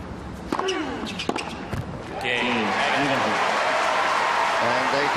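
A tennis crowd at the 2004 Cincinnati final between Agassi and Hewitt breaks into cheering and applause after a few ball thuds. The sound swells and holds steady, with a voice commentating over it.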